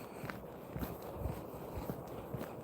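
A person walks outdoors, and the footsteps land as a soft, steady series of light thuds against faint background noise.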